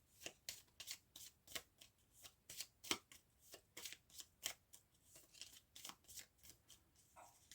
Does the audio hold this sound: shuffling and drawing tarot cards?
yes